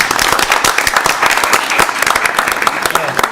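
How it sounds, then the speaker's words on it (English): Audience applause at a town council meeting, a dense burst of many hands clapping close by with sharp irregular claps, and voices murmuring underneath throughout. "Big round of applause."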